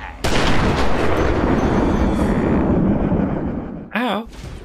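Gunfire in the Batman: Arkham Asylum video game, a loud sustained burst of shots and booms filling most of the moment, then a brief cut-off and a short resumption, with no talk over it.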